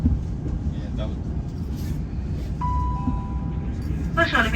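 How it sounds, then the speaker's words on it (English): A passenger train rumbles steadily from inside as it runs into Crewe station, with a low continuous roar, a brief tonal whine partway through and a voice speaking over the noise. "We'll shortly be arriving into Crewe, where this train terminates."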